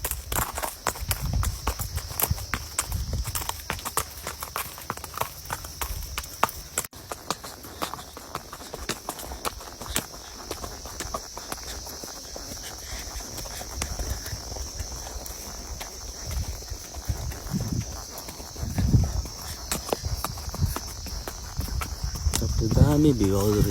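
A horse carries a rider on a trail ride at Kanyam, its hooves clip-clopping in an uneven walking rhythm amid outdoor ambience, with crickets chirping faintly and people talking at times.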